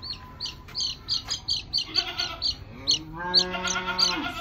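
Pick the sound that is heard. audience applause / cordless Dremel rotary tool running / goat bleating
goat bleating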